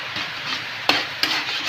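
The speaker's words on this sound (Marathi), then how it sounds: "ते चांगलं जे होईपर्यंत असं मिक्सच करावं लागतं ह्याला" Food cooking in a pan hisses under steady stirring and mixing. Two sharp scrapes of a utensil against the pan stand out, all close and moderately loud, with no voices.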